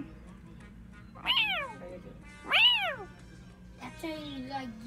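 A person imitates a cat, giving two loud, drawn-out meows with rising and falling pitch, then a lower, flatter third call.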